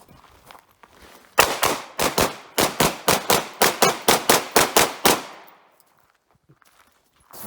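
A string of about fourteen sharp, loud shots from a Hungarian FEG P9M 9mm pistol at a range, fired in a quick, fairly even rhythm, followed by near silence.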